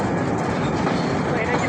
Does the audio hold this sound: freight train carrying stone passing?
yes